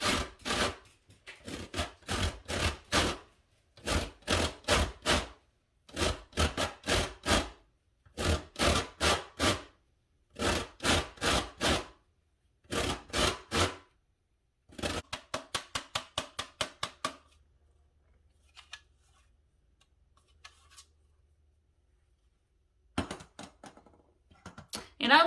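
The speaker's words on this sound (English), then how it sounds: "So I am working on getting the zest of my lemon." Lemon zested by hand on a grater, rhythmic bursts of rasping strokes in short groups with pauses between, close and fairly quiet, then a quieter stretch near the end.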